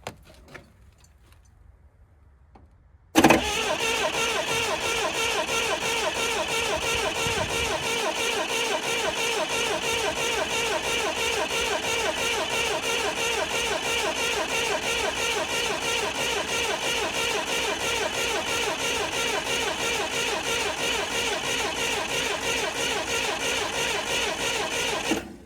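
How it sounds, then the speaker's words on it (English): Near-silence gives way abruptly to a forklift's engine cranking continuously, a loud, even, rapid churning that runs on without the engine catching. "we're gonna crank on it a little bit and just see if it'll fire"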